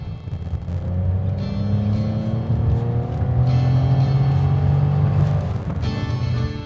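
The petrol engine of a Fiat 500 Hybrid drones steadily from inside the car, its pitch dropping and rising through a couple of downshifts, with no talking.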